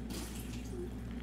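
Water pours steadily into an inflatable punching bag, a continuous low rushing flow with faint splashing, moderately quiet and with no talk.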